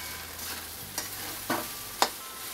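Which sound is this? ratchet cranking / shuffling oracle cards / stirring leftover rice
stirring leftover rice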